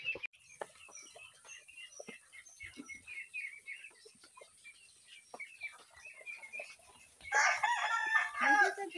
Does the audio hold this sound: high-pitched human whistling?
no